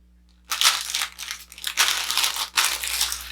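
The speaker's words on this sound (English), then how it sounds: "So it's in a cellophane bag." A cellophane bag from an indie brand package is crinkled and crushed close up in three bursts of sharp, bright rustling, with short pauses between them.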